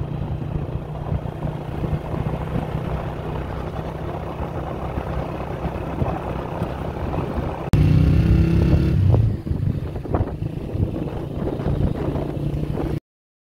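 A motorcycle riding to a market carries two riders, and its engine drones steadily under heavy wind buffeting. A louder, rougher rumble passes for a moment partway through, and then the steady ride noise returns.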